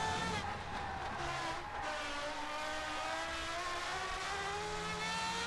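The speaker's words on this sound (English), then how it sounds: "Car sounds really good." A race car engine drones steadily on track, a continuous revving tone rising and falling slightly, heard at moderate level without talk.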